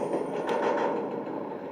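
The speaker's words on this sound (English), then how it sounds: "As you can see, this train is stopping" A double-decker train in the TRS 2009 railway game slowing to a stop, with a steady loud rolling rumble and a faint wheel squeal through the brief stretch.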